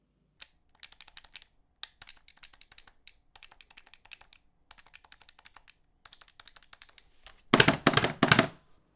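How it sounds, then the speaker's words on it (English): Buttons on a PS4 controller being pressed, a close run of light, quick plastic clicks and taps in uneven bursts, ending with a louder, denser clatter of rapid presses. "if I played the PS4 controller, it would sound like this in comparison"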